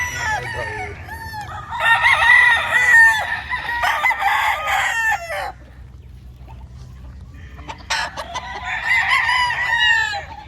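Gray gamefowl roosters, some with straight combs, crow repeatedly at a farm in Lipa, Batangas: loud, close calls in two bursts with a brief quieter gap between them.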